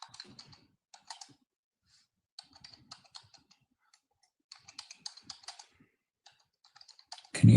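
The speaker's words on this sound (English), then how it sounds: "Can you hear me typing?" Typing on a computer keyboard, bursts of rapid close-up key clicks with short pauses between runs, ending in a louder thump.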